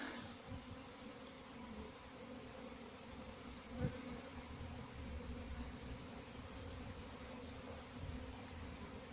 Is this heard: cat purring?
no